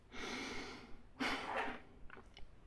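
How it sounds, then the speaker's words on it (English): Faint, soft breaths sound close to the microphone, one long exhale followed by a second shorter breath and a few small mouth or nose sounds, in a quiet room. "The downside is that you hear your breathing sometimes if you breathe too loudly"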